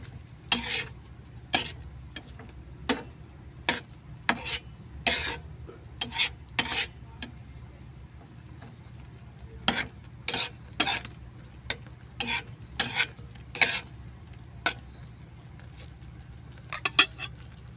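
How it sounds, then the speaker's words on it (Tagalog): Ground pork being stirred in a simmering pan, with repeated sharp scraping strokes of a utensil against the pan over a low bubbling sizzle, close and steady, with no talking. "Haluin ko."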